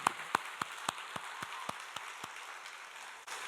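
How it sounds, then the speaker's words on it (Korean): A church congregation at a special early-morning prayer service claps in unison, about ten sharp, evenly spaced claps in a steady rhythm that gradually soften, followed by a brief swell of room noise. "우리 다시 한번 박수하겠습니다."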